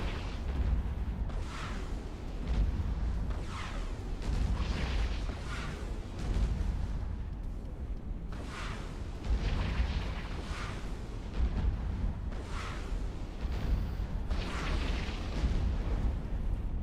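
Missiles or rockets launching in EVE Online, a sequence of loud whooshing bursts and explosive thumps repeating in irregular clusters over a continuous low rumble, with no voices.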